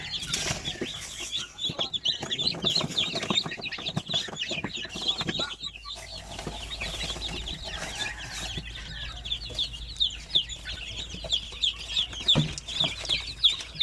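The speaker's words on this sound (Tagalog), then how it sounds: "meron tayong bagong sisiw ngayon" Newly hatched chicks from an incubator peep constantly in high, rapid chirps while being given feed, with soft rustling and scratching close by.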